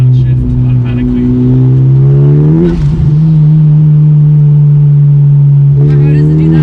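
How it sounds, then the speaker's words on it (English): Tuned Honda Civic Type R engine automatically rev-matching on downshifts, loud steady in-cabin engine drone with brief blips of rising revs as gears change, a voice faintly under it. "I'll take my foot off the gas. It matches your downshift automatically."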